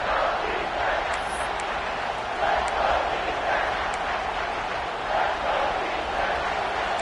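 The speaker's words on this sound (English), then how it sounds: "this crowd is at fever pitch" A large football stadium crowd roars steadily at fever pitch before a third-down play in the red zone, a dense, continuous wall of cheering with swells throughout.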